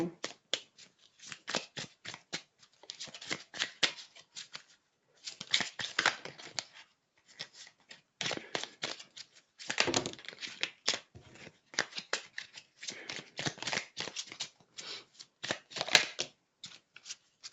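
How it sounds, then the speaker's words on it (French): A deck of oracle cards is shuffled close up in a series of crisp riffling bursts with brief pauses between them. "on va voir avec le petit oracle de la magie quel est le message que Aya veut nous transmettre pour commencer ce tirage"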